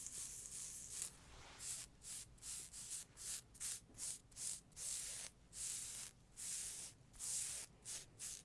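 Fingernails scratch rhythmically across scrub fabric in close, quiet bursts, a dozen or so rough, airy strokes separated by brief pauses, with no talking.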